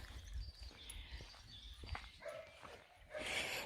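Dogs in a village some 500 km from Kyiv bark and yip intermittently at a moderate distance, with scattered short calls, a whimper and footsteps in the background.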